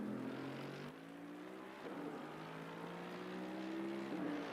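A race car from Assetto Corsa Competizione, a McLaren among the field at Spa, sweeps past with rising and falling engine tones and gear changes, fairly quiet and without talk.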